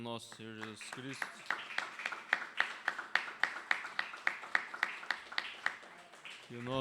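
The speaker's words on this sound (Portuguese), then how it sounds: "Uma salva de palmas ao nosso Senhor Jesus Cristo." A congregation applauds in rhythmic unison, steady claps repeating at an even pace, with singing or voices heard at the start and end.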